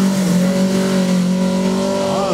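Suzuki Swift GT3 race car at the Mickhausen hill climb on a slippery road, its engine loud and close, climbing through revs in one sustained, rising, harmonic-rich drive.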